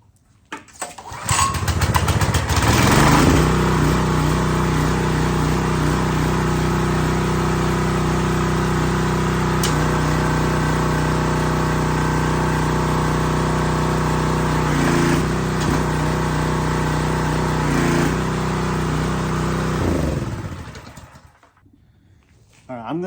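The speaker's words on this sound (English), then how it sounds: "You heard the engine idling out." A Husqvarna pressure washer's small engine starts with a pull and settles into a steady, loud idle, running evenly before cutting off near the end.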